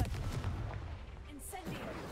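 A Confringo fire spell is cast in the Hogwarts Legacy game, a burst of fiery, booming blast noise over steady game ambience, with a short whooshing streak near the end.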